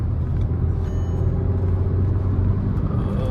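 A Skoda Slavia 1.5 TSI pulls hard while overtaking on an open road, a continuous loud low engine drone and road rumble heard from inside the cabin, with no talking.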